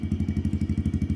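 A Yamaha XSR155 motorcycle with an aftermarket full exhaust idles close by, giving a loud, even, throbbing putter of about ten pulses per second with a slightly lumpy, thumping edge.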